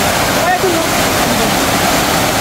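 Bolinao Falls pours in a steady, loud, broadband rush of falling water that fills the whole stretch, with voices faintly present alongside.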